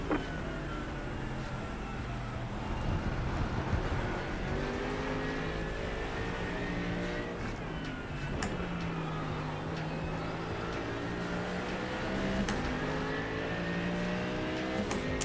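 Race car engine in the iRacing sim at Sebring in light rain, a loud continuous drone whose pitch sweeps up and down through gear changes and braking, steady and close throughout.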